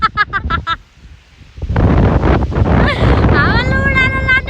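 Strong wind gusts across open village farmland during maize weeding season, a loud sustained roar buffeting the microphone after a short pause, with voices heard before and over it.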